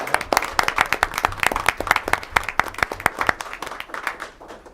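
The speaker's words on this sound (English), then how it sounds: "Let's give them a round of applause." At a school district board meeting, an audience claps for honored students, a brisk round of many hands that swells quickly, holds steady and then thins out toward the end.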